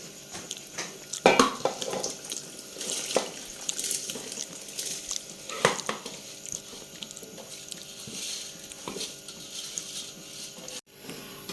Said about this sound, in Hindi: पानी में उबाल आ चुका है। अब हम इसमें चावल ऐड कर देंगे।